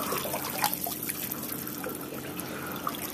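Water trickles and drips out of a leaking pipe, a faint continuous dribble with a few small splashes.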